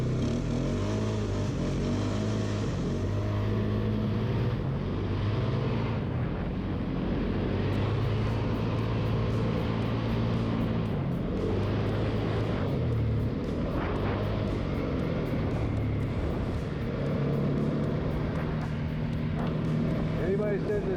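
A 2017 Polaris Sportsman 570SP ATV engine drones continuously while riding, a close, steady rumble with shifting pitch, and a voice talks over it at times.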